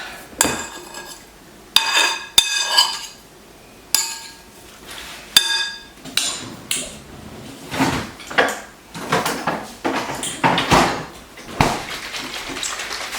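A spoon stirs a seafood dish, giving a run of sharp metallic clinks and scrapes against the bowl or pot at an irregular rhythm, close and fairly loud between quieter gaps, with no talking.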